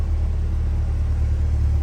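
A 2021 Chevrolet Corvette C8 coupe with the Z51 package idles with a steady, deep low rumble, close and continuous, with no voices.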